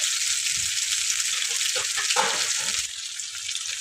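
Fish sizzles steadily in a hot pan at home, a loud continuous hiss with a brief stir or shift of the pieces partway through, close and alone without talk.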